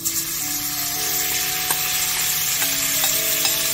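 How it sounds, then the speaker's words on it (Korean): Beef frying with a little oil in a frying pan for a beef and eggplant rice bowl gives a steady close sizzle. Stirring scrapes and clinks come now and then over the frying. "이제 고기를 한번 구워주겠습니다"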